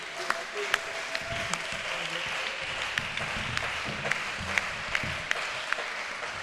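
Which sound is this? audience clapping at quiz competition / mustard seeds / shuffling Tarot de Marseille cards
audience clapping at quiz competition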